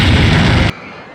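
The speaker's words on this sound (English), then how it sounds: "Explosions!" A loud, dense explosion blast from the RollerCoaster Tycoon 2 video game, filling the first moment before cutting off abruptly into quiet residue.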